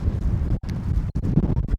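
Gusty wind at Dybów Castle buffets the microphone in a steady low rumble, broken by a few brief drops in loudness.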